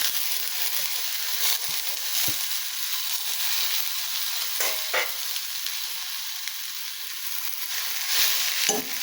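Grated raw plantain hits a hot pan for vazhaka thoran and gets stirred, a steady sizzle and crackle with occasional scraping clicks from the spoon, close and fairly soft.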